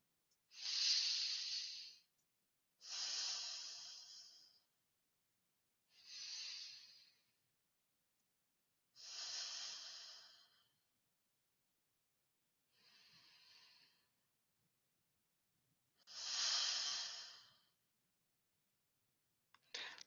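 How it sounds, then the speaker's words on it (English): Slow, deep breaths during a guided meditation, heard as six or seven soft, airy breath sounds at a steady unhurried pace, close and quiet, with silence between them. "we're going to again just take 3 deep breaths together."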